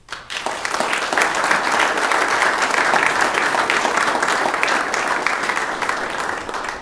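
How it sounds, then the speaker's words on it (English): At a township committee meeting, the audience gives police officers a sustained round of applause, dense steady clapping that swells quickly and holds loud throughout. "And let's have a round of applause."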